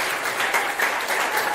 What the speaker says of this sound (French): Applaudissez Monsieur Maïko.